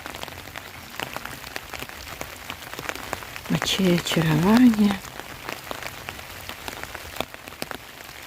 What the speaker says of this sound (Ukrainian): Я люблю прогулюватись під дощем.